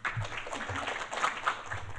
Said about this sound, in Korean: 큰 박수로 김동현 박사님 맞아 주십시오